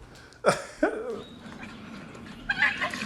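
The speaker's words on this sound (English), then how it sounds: "do you hear the dog? The poor dog is like dying in the video." A distressed dog gives strained, choking whimpers and yelps in two sharp bursts, then quieter whining and a final squeal, close to the recording over low background noise.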